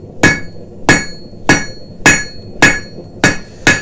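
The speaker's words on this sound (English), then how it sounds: "what we'll do is we'll hammer on two sides" Hot metal struck with a hammer on an anvil while forging a simple Christmas ornament, producing seven loud, evenly spaced ringing blows in a steady rhythm with no talking.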